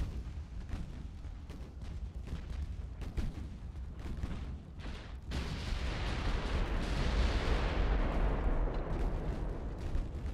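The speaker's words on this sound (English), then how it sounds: "Keep pounding with what I assume are armor-piercing rounds." Warship guns firing armor-piercing rounds in the naval video game Ultimate Admiral: Dreadnoughts, repeated heavy booms that swell into a sustained roaring barrage of overlapping blasts.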